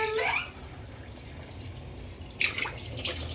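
Water for ghee rice splashes into a cooking pot in two short bursts, one at the start and one near the end, fairly quiet with a hushed gap between them.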